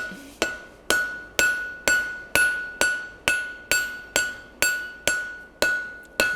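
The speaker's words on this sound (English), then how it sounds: "hammer down at an angle as well" Evenly spaced blacksmith hammer blows ring out on hot steel while forging a nail header, about two per second, each strike bright and clanging with a lingering metallic ring.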